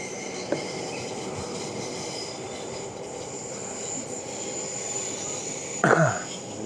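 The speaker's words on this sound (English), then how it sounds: "You can see the trains go past from Central Station." Trains pass near Rotterdam Central Station in a steady, continuous rail rumble, with a sharp clack near the start and a louder metallic screech and clatter close to the end.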